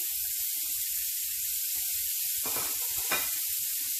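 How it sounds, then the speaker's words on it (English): Chopped onions sweat in a pan over low heat on the stove for meatball subs, giving a steady close sizzle and hiss with two brief louder crackling flare-ups as they are pressed down. "Now I'm just going to get my onions and press them in here. We're just sweating these out."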